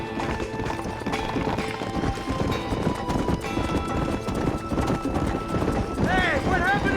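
In Red Dead Redemption, a group of horses gallops through Blackwater in pursuit. The quick hoofbeats run loud and continuous under game music, with a horse whinnying near the end and voices calling out over the ride.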